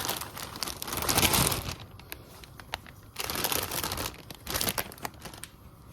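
Leaves of spinach from a bag tumbling into a cooking pot, giving two bursts of dry crinkly rustling and crunching with a quieter pause between, close and fairly loud, no talking.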